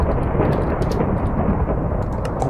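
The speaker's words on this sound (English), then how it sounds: "the thunder is mighty loud" Thunder rolling through a Minecraft UHC game, a loud, sustained rumble that fills the whole stretch without break, with no talk over it.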